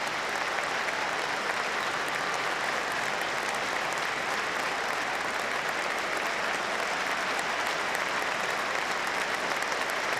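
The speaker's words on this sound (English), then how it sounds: "the whole of the Stadium of Light are once again standing and applauding" Sunderland supporters at the Stadium of Light, on their feet and applauding a fellow fan during a football match: a steady, dense wash of crowd clapping that holds at full strength throughout.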